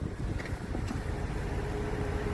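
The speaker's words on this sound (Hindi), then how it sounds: "अभी हम इंजन चालू कर दिए।" Car engine idling while being checked for an ignition coil misfire, a steady low rumble that holds even and continuous throughout with no talk.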